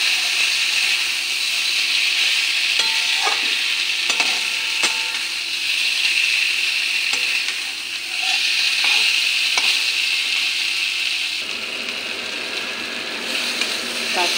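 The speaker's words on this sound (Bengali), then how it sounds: "এগুলো দিয়ে দেব। ফোড়নের সঙ্গে মিশিয়ে নিই।" Fried kalna fish and raw banana pieces being stirred into a hot spice tempering in a pan, a steady bright sizzle with repeated scraping and clinking of the spoon throughout, close and continuous.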